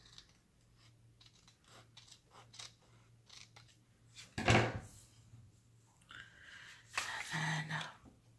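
Scissors trimming paper for a mini waterfall photo book, a series of quiet, close snips with a louder cut near the middle, no voices.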